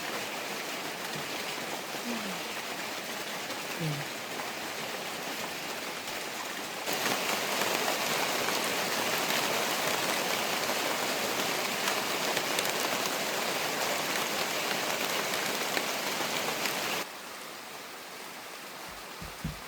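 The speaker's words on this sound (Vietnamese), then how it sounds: "Sao trên như là mưa xuống nhỉ?" Steady rain pours down outdoors as a broad, continuous hiss that swells heavier through the middle stretch before easing back, with a few faint knocks and no talk.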